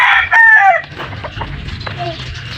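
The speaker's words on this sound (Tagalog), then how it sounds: "ang daming manok, no?" Backyard chickens behind a house: a rooster crows loudly up close at the start, then hens cluck and murmur in a lower, busier flock chatter.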